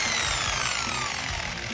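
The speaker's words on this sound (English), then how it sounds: "all I'm doing is drilling into wood" A drill fitted with a Forstner bit bores into wood, giving a steady, loud grinding whine with a rough low rumble that runs unbroken for the whole short stretch, with no voices.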